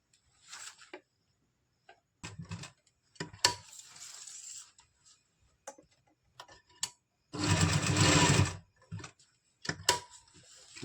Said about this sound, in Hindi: हम इसको पहले तो इलास्टिक को अच्छे से स्टिच कर लेंगे